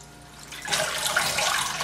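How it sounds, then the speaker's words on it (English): Fresh soft herbs such as basil and cilantro are dipped and swished in a sink full of cold water, giving a soft, steady splashing and sloshing that starts after a quiet moment and continues to the end. "You want to dip your herbs, basil, cilantro, any soft herb. You want to dip it in the water"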